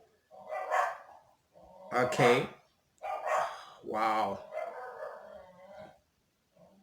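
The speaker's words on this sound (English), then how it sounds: "Excuse the dog barking." A dog barks in short repeated bursts indoors, overlapping a person who keeps talking, with loud voiced barks clustered between stretches of speech.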